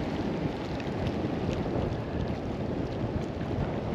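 Steady, loud wind gusting and buffeting the microphone outdoors while tenkara fishing for trout, a continuous roaring rush with no voices.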